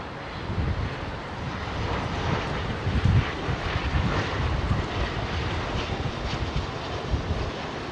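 Emirates Airbus A380 on approach to London Heathrow, a steady broadband jet rumble with wind buffeting, moderately loud and continuous, no voices.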